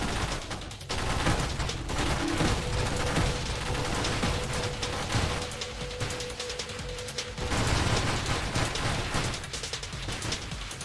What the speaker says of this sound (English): It's shooting bombs. Rapid fire, my friends.